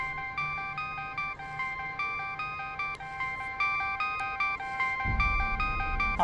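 A phone rings with a steady repeating electronic ringtone, loud and close, its pattern cycling evenly throughout, with a low rumble rising near the end and no voices.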